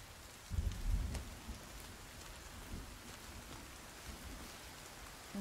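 Rain falls in Sons Of The Forest as a soft, steady hiss, with a low rumble of thunder near the start and a few faint drops scattered through.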